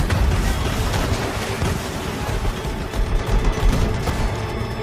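Naval broadside gunfire from warships played back on screen, a dense, continuous rumbling barrage of booms with no clear gaps, loud and heavy across the whole stretch.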